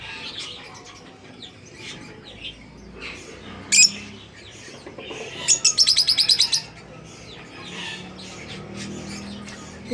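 Young cockatiel chicks kept as pets chirp in a room, giving scattered soft tweets, one sharp squawk, then a quick run of loud repeated chirps before settling back to faint calls.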